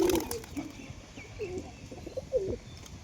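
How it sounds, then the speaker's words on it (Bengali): A white female Matraj pigeon at a home loft coos softly nearby, a few short throaty coos spread over three seconds against quiet background noise. "এটা মাদি কবুতর"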